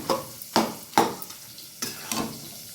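Fried spices being mixed into a hilsa fish head curry with Malabar spinach in a pan, heard as about five separate scraping stir strokes with a soft sizzle underneath, close by and without talk.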